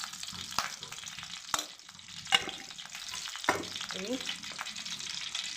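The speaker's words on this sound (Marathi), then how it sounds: "हा रवा पण मी आता मस्त असा मध्यम आचेवर छान खरपूस भाजून घेते." Semolina roasts in ghee in a pan over medium heat, giving a faint, steady sizzle broken by a few sharp scraping stir strokes, with a brief spoken word near the start.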